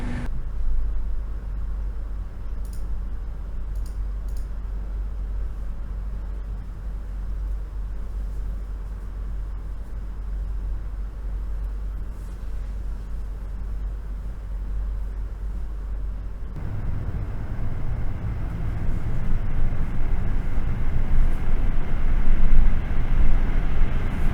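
A Thermaltake Toughfan 12 PC cooling fan spins at full 100% speed, giving a steady, close, broadband airy whoosh that grows noticeably louder and rougher partway through, with no talking.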